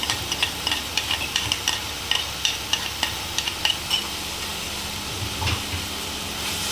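Tomatoes fry in a pan with a steady sizzle while a spoon scrapes and taps rhythmically in quick repeated strokes, then a soft thump as more is added; close by, no talking.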